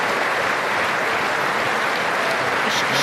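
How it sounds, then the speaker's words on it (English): Sustained standing ovation from a large crowd after a half-hour speech, a dense unbroken roar of clapping that stays loud and even throughout with no talking over it. "So let's look at the standing applause that he got."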